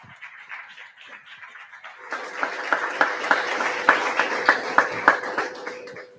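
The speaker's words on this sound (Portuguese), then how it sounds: "Aplauda." Sunday worship service: after a quiet stretch, the congregation breaks into rhythmic unison clapping in a steady beat. A sustained musical tone sits underneath.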